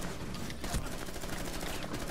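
Rapid video game gunfire rattles in a dense, continuous volley, fairly faint and muffled, with no voices.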